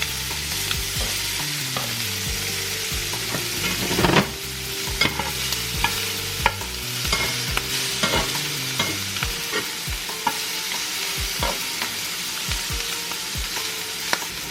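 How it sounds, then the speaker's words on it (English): Shrimp sizzle in a hot cast iron skillet as they are turned, with a constant frying hiss broken by scrapes and sharp knocks of a utensil against the pan. "Time to turn these shrimp."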